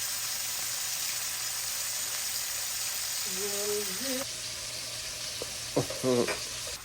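Garlic and onion fry in a pan for pancit bihon, a steady sizzle running at low to moderate level, while a brief murmured voice and a couple of short voiced sounds come through near the end.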